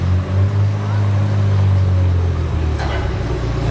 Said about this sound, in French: J'entends une McLaren arriver aussi